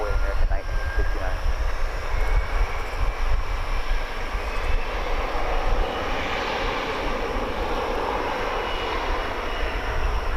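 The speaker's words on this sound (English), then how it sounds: "Looks like we've got an American Eagle jet taking off for Houston Intercontinental Airport." American Eagle regional jet taking off at Dallas/Fort Worth airport at daybreak, a loud steady engine roar that swells and holds throughout, with broadband rumble and a rising whine, heard alone without talk.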